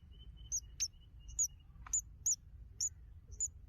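Several baby squirrels crying, heard as a series of sharp, high chirping calls spaced irregularly over a low background hum, with no voices.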